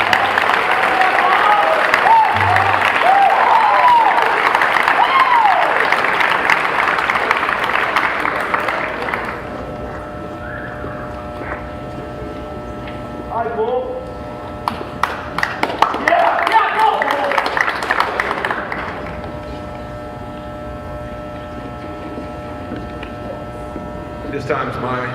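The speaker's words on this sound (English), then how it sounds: "Ladies and gentlemen, please give me a nice round of applause." An audience at a high school senior awards ceremony claps for roughly nine seconds; the applause then fades into a hum-laden room with voices and another brief burst of clapping midway.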